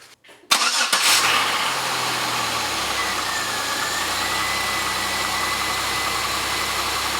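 A 2004 Pontiac Aztek engine cranks briefly and catches, then settles into a steady, even idle that runs on alone, close and moderately loud.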